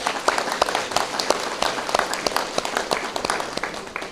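Applause from a crowd at a local election meeting with voters in Kępice greets a candidate, giving steady, fairly loud clapping throughout with sharp individual claps standing out.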